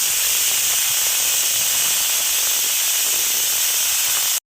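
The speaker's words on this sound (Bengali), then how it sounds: "কুকারের সিটি হয়ে গেছে" Pressure cooker whistle blasting steam on a gas stove while cooking pea dal, a loud, sustained hissing roar that stays steady and close, then cuts off abruptly at the end.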